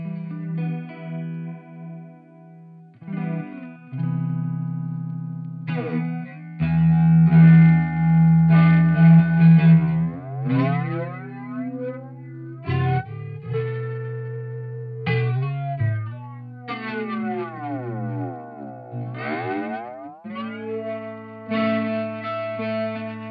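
Distorted synth tones sweep through a Dreadbox Komorebi flanger with strong feedback, giving a ringing, metallic, whooshing character that rises and falls throughout.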